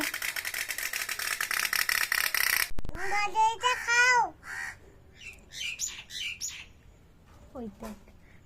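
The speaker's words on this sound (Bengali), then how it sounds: "এই দেখো কাক বসে" Harsh crow caws ring out several times in short bursts after a loud rattling noise, with a few more calls scattered further off.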